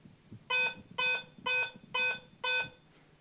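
An AT Pro metal detector sounds five short, even, high-pitched tones, each about half a second apart, as it passes over a coin target at close range.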